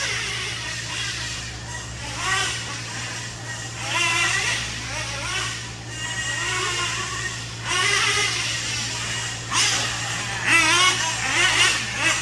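Gas-powered RC trucks race through an A-main event at a hobby shop track, their small engines revving and buzzing in repeated rising surges as they pass, with a race commentator talking over the noise.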